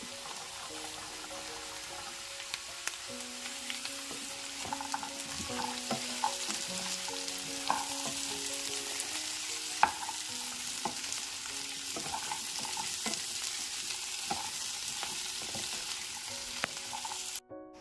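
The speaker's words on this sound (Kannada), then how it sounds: "ಈಗ ಇದ್ರ ಜೊತೆ ಮಶ್ರೂಮ್ನ ಸೇರಿಸ್ಕೊತಾ ಇದ್ದೀನಿ, ಜೊತೆಗೆ ಬಟಾಣಿ." Mushrooms and peas fry and sizzle steadily in a pan, with scattered clicks and scrapes of stirring throughout; no one speaks.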